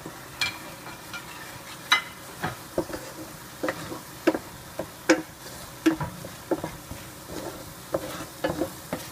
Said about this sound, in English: now we will add all our dry spices into it and fry till the oil leaves the corner